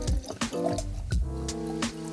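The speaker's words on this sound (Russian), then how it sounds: "Наливаем стаканчик." Vodka poured into a small glass, a brief run of liquid splashing and trickling over a steady background with tonal hum.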